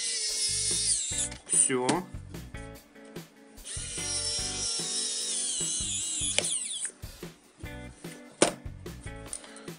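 A Xiaomi Wowstick electric screwdriver driving screws back in, with bursts of whirring motor and ratcheting clicks close up, separated by handling taps while a person speaks briefly.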